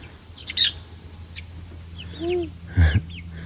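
Chickens and a black rooster wander a roomy new grow-out run built for young birds, giving a few scattered clucks and short squawks over a low steady hum, with quiet gaps between calls.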